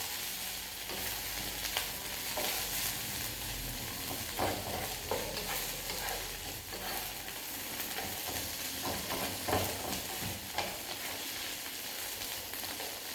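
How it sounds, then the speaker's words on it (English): Onions frying and being stirred in a pan: a continuous dense sizzle with repeated soft scraping strokes from the stirring, steady and fairly close, no talking. "Give it a nice stir, mix those onions right in with it."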